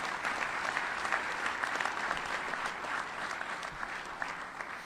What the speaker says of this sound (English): Could you give Dick a nice round of applause?